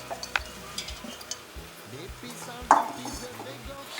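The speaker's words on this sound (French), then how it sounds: "on mélange bien" A spoon stirring onions with tomatoes, spices and mint in a pot for lamb briani, with soft scraping and a couple of sharp metallic clinks against the pan over a steady low sizzle.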